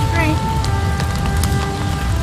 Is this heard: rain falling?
yes